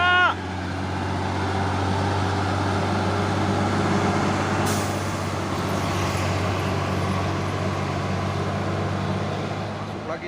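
A 6x4 HD tanker truck labours uphill with a steady low diesel drone and road noise, joined by a sharp hiss of air brakes midway; people talk over the engine.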